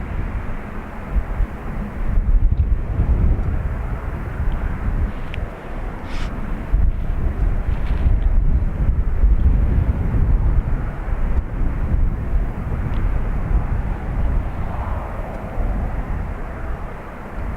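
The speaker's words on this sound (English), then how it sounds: "This ATR is off to Newquay," An ATR turboprop departs Dublin Airport for Newquay, a deep droning propeller and engine rumble, fairly loud and continuous with wind buffeting the microphone, rising slightly and then easing toward the end, no talk.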